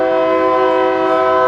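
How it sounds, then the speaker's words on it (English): A loud train horn sounds nearby during a city budget workshop in Dunsmuir, one sustained chord-like blast holding steady for the whole stretch with no talking over it. "That's a loud whistle"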